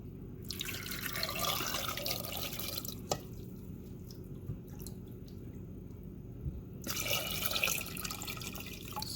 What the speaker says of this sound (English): Now we're gonna pour the salted water into the jar as well.